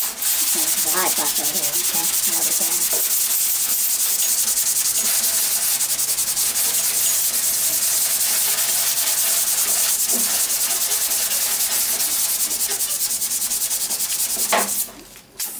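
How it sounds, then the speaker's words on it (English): Steady, continuous abrasive sanding strokes on body filler on a 1977 Camaro Z28 hood, loud and close, a dry rasping hiss that runs unbroken before cutting off at the end. "making sure when we're sanding here, not to sand over the center line"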